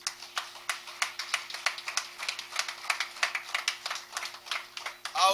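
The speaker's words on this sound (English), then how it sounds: "A round of applause for them, please." An audience at a party delegates' conference claps in a sustained, fairly even round of applause, moderately distant and steady throughout.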